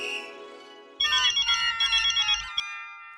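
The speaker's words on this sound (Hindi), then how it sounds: "मैं मेहता साहब को फोन करता हूँ।" A mobile phone ringtone plays a repeating melodic electronic tune, clear and close, after a brief tonal chime at the start.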